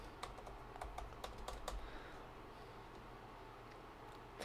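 Keys on a computer keyboard tapped as a network password is entered, a short burst of about a dozen quiet, close clicks in the first two seconds followed by faint room hiss.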